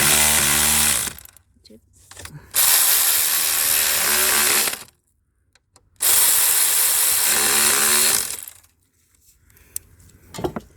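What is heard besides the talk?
electric ratchet gun tightening a bolt on a car engine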